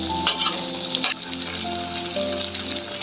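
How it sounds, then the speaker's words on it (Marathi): Masala frying in oil with salt for a spicy brinjal dish, a steady close sizzle with a few louder crackling bursts and light stirring, no talk. "त्यात मीठ टाकून घेते चवीपुरते. तेल सुटस्तवर परतून घेते मसाला."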